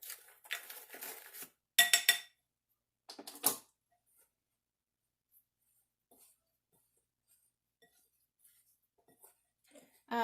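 Sliced apples tossed with lemon juice in a bowl give a few short bursts of clinking and scraping at the start, then the rest fades to near silence with faint ticks.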